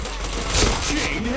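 Gunfire in a mobile-style shooter game, a dense burst of shots packed together with a louder crack near the middle, playing over steady game noise.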